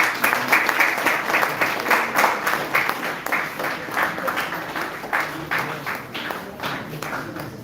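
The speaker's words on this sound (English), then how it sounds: "A round of applause, everyone" An auditorium crowd at a college event gives a round of applause for a faculty mentor from Women's College, Keonjhar, sustained even clapping that keeps a steady level and slowly softens.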